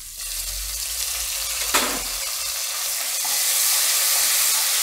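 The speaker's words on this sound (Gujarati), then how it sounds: "ને લીલા મરચા નાખશું, ને આપણે એમાં આદુ નાખી દઈશું." Green chillies, ginger and asafoetida hit hot oil with a loud, close, continuous sizzle, broken by one brief crackling burst partway through, with no voices.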